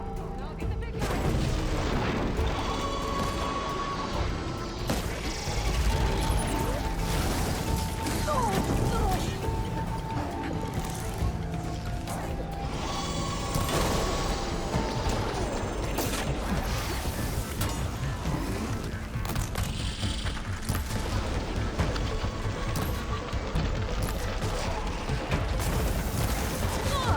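Robot machines attack in Horizon Forbidden West, with dense booms, crashes and mechanical clatter running loud and continuous throughout, mixed with game music and character voices.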